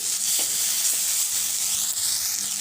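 Ginger garlic paste and chopped tomato hit hot oil in a pan for a fish head curry, giving a steady, close sizzle with faint stirring scrapes.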